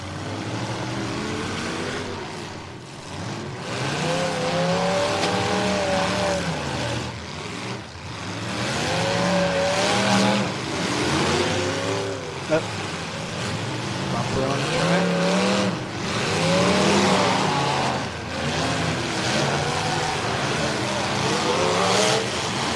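Race cars roar off at the green flag of the King of Ohio 2023 event, engines loud and sustained with rising revs as the field accelerates, under a commentator's excited talk.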